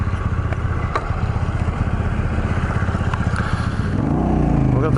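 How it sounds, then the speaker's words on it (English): A Suzuki V-Strom motorcycle engine idles steadily and loud with a rapid, even pulsing throb, rising slightly near the end as it picks up revs, no talking over it. "We've got the V-Strom going."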